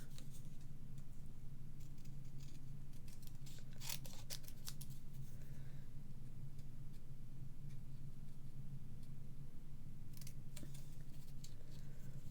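Scissors cutting through card for a papercraft box, with a steady run of soft snips and crisp clusters of close cutting sounds over a low background hum, and no talk.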